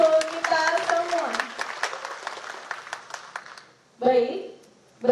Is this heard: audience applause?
yes